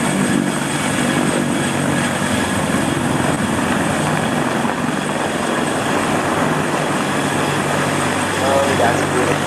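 A CH-53K heavy-lift helicopter of the Israeli Air Force drones steadily overhead, a loud, constant rotor and engine roar filling the whole stretch.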